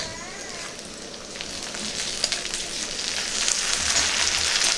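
Garlic paste sizzles steadily in hot oil in a pan, a continuous bright hiss that grows slightly louder over the few seconds, with no talking over it.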